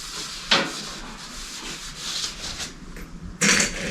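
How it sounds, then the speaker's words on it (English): Isopropyl alcohol is wiped across aluminum panels with a cloth, making continuous close rubbing and swishing strokes. Louder sweeps come at irregular moments. No talk is heard. "Using isopropyl alcohol to wipe it all down."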